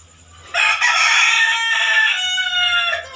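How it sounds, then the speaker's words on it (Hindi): A rooster crows loudly and close by, a single long, strained cock-a-doodle-doo call of about two and a half seconds, standing alone over a faint low hum. "ये देखो मुर्गा भी अजान दे रहे है तुम्हें देख के।"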